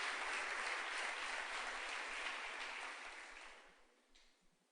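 A church congregation claps loudly during a Sunday service, a dense burst of applause that holds strong and then tapers off, fading to scattered claps near the end.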